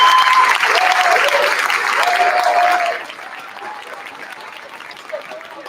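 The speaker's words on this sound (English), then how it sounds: "let's have one final round of applause for the wonderful administration team that stepped in to help me out tonight" An audience at a first and second grade school concert claps for the administration team, a loud, dense burst of applause that holds for about three seconds before thinning to scattered, quieter clapping.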